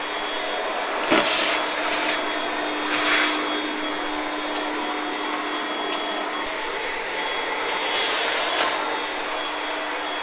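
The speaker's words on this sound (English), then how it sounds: "So the vacuum cleaner is highly effective." A vacuum cleaner hums steadily up close, with a few louder bursts of suction as it sucks up miller moths, no voices.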